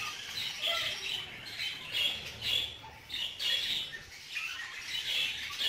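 A flock of budgerigars in a room fitted with new nest boxes keeps up busy, overlapping chirps and squawks, close and lively throughout with no talking.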